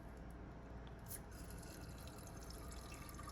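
Water runs steadily into a dirty bong through its opened cap during a deep cleaning, a soft continuous rushing hiss with faint dripping, fairly quiet and without any talking.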